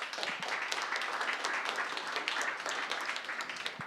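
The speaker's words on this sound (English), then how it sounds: "so can we have a round of applause for them," Audience at a spoken word poetry event applauding, a busy crackle of many hands clapping at once with scattered sharper claps, sustained and moderately loud, no talk over it.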